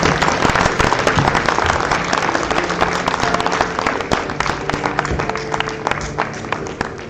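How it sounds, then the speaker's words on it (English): Parents and guests at a graduation ceremony clap for the graduates, a busy crowd of sharp, overlapping hand claps that stay strong, then gradually thin and soften toward the end. "Can I get one more round of applause for our graduates?"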